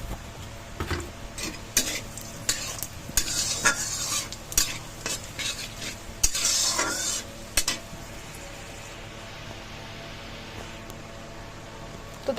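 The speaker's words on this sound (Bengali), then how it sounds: "এই তেলের মধ্যে এবার দিয়ে দেবো গোটা গরম মশলা, শুকনো লঙ্কা, জিরে আর তেজপাতা দিয়ে খুব ভালো করে ভেজে নেব।" Whole garam masala, dried chilli, cumin and bay leaf fry in hot oil while being stirred, with repeated scraping and clinking of a utensil against the pan over a soft sizzle, then a quieter steady sizzle.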